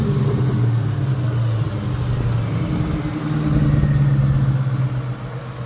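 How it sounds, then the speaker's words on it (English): A 2003 Mustang Cobra engine idles with a deep rumble near by, then revs up into a louder swell before settling back, with no voices. "A little rev here."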